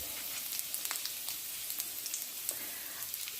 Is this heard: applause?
no